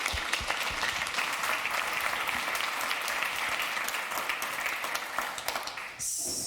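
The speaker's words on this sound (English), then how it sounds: "Give him a round of applause" Audience applause fills a developer conference talk on domain-driven design and TYPO3, a steady dense clapping that holds for about six seconds before cutting off abruptly.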